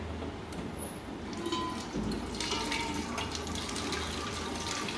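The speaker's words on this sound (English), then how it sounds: "What I'm doing now is I'm draining the cold raw sap" Cold raw maple sap draining from the float box of an evaporator during shutdown, a steady trickling and splashing flow of liquid running continuously at moderate level with no talk.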